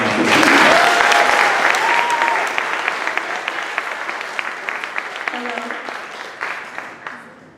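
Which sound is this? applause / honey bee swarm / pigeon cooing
applause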